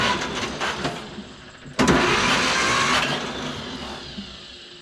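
A John Deere B tractor engine coughs and catches, then keeps running with a rough, loud mid-pitched rumble and some spitting, close by with no talk over it.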